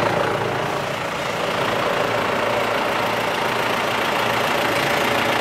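A tractor engine idles nearby in a steady, loud, even rumble that holds at a constant pitch, with no voices over it.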